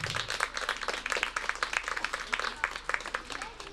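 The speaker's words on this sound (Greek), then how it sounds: "Ομολογώ ότι αυτό το χειροκρότημά σας με ενθουσιάζει." Audience applause at a primary school's end-of-year event in Kalyvrysi, a steady crowd of many hands clapping briskly and evenly throughout, fairly close and continuous.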